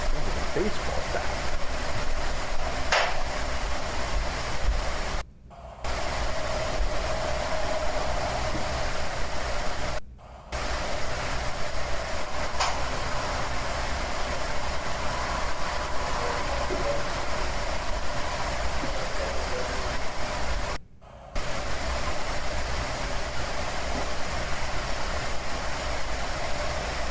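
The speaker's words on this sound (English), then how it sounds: "That's Mitro with his tractor next door" A tractor runs steadily next door in a rural setting, a continuous low engine drone with wind-like noise that holds for most of the stretch, broken by three short gaps.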